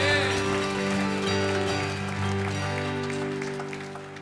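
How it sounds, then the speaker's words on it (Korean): A congregation claps during a Korean church Sunday worship service, the applause blending into sustained instrumental music and holding steady for several seconds before easing slightly. "우리 하나님 앞에 큰 박수로 영광 올려드립시다"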